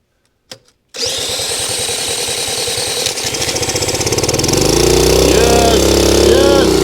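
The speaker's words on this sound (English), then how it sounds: "that sounds like a running motorcycle" A Honda CL90 motorcycle engine, previously seized, sputters, catches and settles into a steady, loud putting idle, its rapid firing pulses rising slightly in pitch toward the end.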